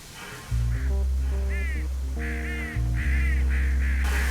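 Crows caw loudly in the Trainz train-simulator game: repeated harsh calls in short bursts, with a steady low in-game engine drone running underneath the whole time.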